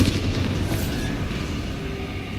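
Bombarda blasting spell going off in Hogwarts Legacy: a loud booming explosion that rolls into a decaying rumble, with nobody talking.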